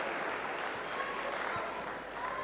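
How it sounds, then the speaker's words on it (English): Steady, dense applause from a large crowd at a men's singles semifinal table tennis match at the world championships, continuous and even throughout. "The crowd are certainly enjoying it."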